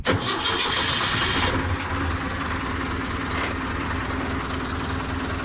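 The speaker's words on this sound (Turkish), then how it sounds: "Traktörümüzü bismillah diyelim." A tractor engine cranks and catches, then settles into a loud, steady rumbling idle close by, with no talking.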